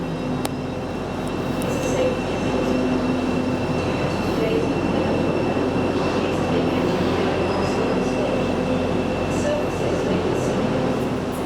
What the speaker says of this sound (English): Great Northern train leaving.